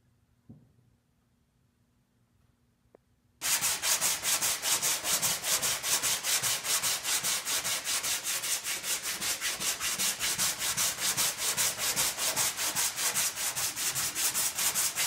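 A Dremel tool sands the inside of a Lamborghini Countach replica body, starting abruptly after a quiet moment and then running as a loud, steady, rapid rubbing whir that continues to the end.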